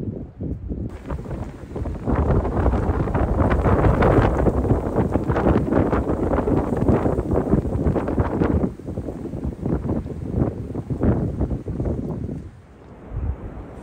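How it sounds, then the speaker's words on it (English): Strong mountain wind roars steadily across the microphone on an exposed ridge above a hardwood forest in winter, a loud buffeting rush that surges and dips for nearly fourteen seconds, with no voices. "the wind was relentless. It's so windy out here."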